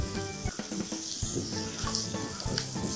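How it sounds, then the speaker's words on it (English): Sausages and vegetables sizzle in a pot while being stirred together, a steady frying hiss with soft scraping, set against a continuous tonal, rhythmic background. "Vegetables meeting sausages. Give that a stir to combine."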